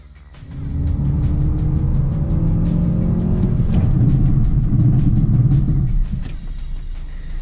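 A Mazda CX-3 taking a curve at speed in a handling test, a loud, steady engine drone with road and tyre rumble that rises and holds, then eases slightly near the end.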